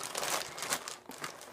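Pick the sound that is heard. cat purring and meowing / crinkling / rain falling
crinkling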